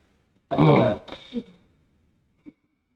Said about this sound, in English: coughs deeply from the chest, reflexively, just because clearing the throat just hurt him a little bit